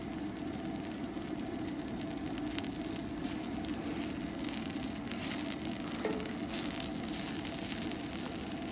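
Onions frying on a griddle beside a 413G engine, a steady dense sizzle that runs without a break under a low engine drone, close and fairly loud.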